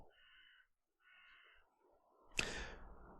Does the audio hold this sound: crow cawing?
yes